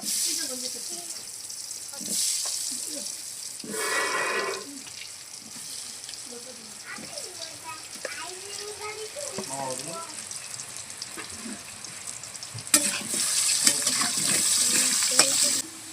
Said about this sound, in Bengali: তেল গরম হয়ে গেছে লবণ হলুদ মাখানো আলুগুলো প্রথমে বাজবো